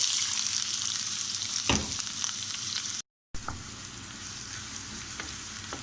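Onions frying in a pan give a constant close sizzle and hiss, with a few soft utensil knocks and a brief dropout partway through.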